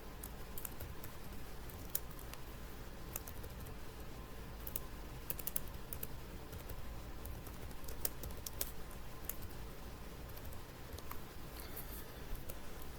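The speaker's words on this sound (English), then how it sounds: "I want you to type in 7" Faint, quiet tapping of keys on a computer keyboard, a steady patter of soft clicks over low background hiss with no talk.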